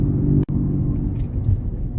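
A 2015 VW Jetta 1.8 turbo driving along, a low steady cabin rumble of engine and road noise with a brief dropout, constant and fairly loud.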